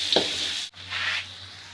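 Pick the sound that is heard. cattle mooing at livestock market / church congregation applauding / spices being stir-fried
spices being stir-fried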